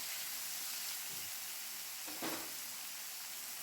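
Two medium chopped tomatoes sizzling in a pan for mint chutney, a steady dense hiss of frying with a brief stir or clatter midway, close and even throughout.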